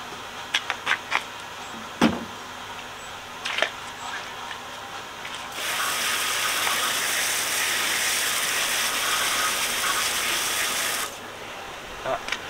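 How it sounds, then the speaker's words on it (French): A car wheel with a very dirty rim being rinsed by a water spray, a steady broad hiss lasting several seconds between sharp clicks and knocks before and after. "Donc on va rincer la roue parfaitement bien."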